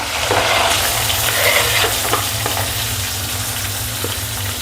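Cumin, mustard seeds, curry leaves and onion sizzling in hot oil in a pan for poliche pohe: a loud, close, continuous crackling fry with faint stirring clicks and a low steady hum beneath.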